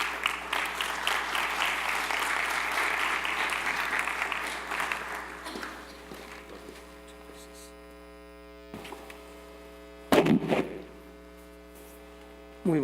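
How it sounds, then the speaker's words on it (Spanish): Audience applause welcoming an engineer to the stage at a formal talk, a clear burst of clapping for about six seconds that fades out, leaving a steady mains hum and a few small handling noises. "Así es que recibamos con un aplauso al ingeniero."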